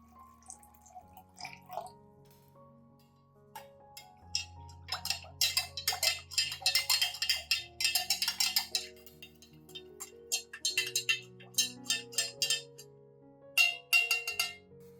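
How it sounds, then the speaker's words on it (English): Spoonfuls of rice are poured into water, making a quiet cluster of small patters, ticks and drips that builds into scattered, irregular bursts with brief gaps, close and faint. "I will use 3 tablespoons of rice and add them to 500 milliliters of water."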